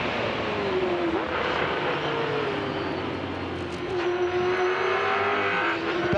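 Race car lapping Bathurst in 2006, engine loud and continuous throughout, pitch sweeping up and down as it brakes and shifts through gears from second to fourth, recorded close from onboard.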